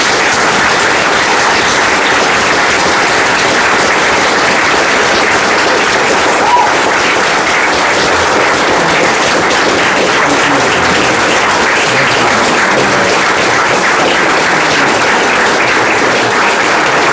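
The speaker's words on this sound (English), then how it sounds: "Let's give all of our veterans and their presenters a round of applause." A large crowd honoring WWII veterans in Fairport, New York, keeps up loud, sustained applause, a thick and even wash of clapping with no pause throughout.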